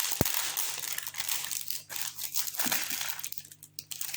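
Stuck plastic packaging of a diamond painting kit is pulled and torn open by hand, with a sharp initial snap followed by crinkling, crumpling rustles that come in uneven bursts, close and fairly loud.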